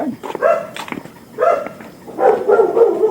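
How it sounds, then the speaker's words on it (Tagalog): A dog barks in a few short bursts, fairly close, with some background noise between barks. "May aso."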